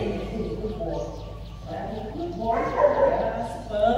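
A Belgian Malinois K9 protection dog barks during car-guarding and bite training in Gia Lai, its barks mixed into ongoing background noise while people talk over it.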